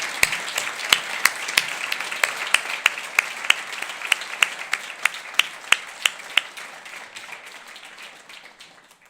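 A single person claps steadily for nominees at an Icelandic leadership awards ceremony, sharp, evenly spaced claps about two per second, fairly close, stopping near the end with faint room tone behind.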